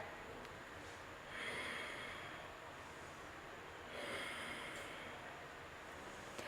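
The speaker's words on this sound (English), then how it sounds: "engaging your Ujjayi breath" Ujjayi breathing held during a standing yoga pose: two slow, drawn-out breaths with a soft, ocean-like hiss, close and steady over a quiet room with no talking.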